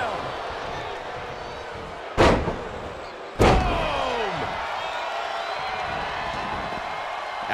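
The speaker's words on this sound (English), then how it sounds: "Sleeper slam! Boom!" Two heavy body slams onto the wrestling ring mat in WWE 2K23, a sleeper slam in Adam Cole vs. Samoa Joe, each a loud sharp thud about a second apart, over crowd noise with a commentator talking.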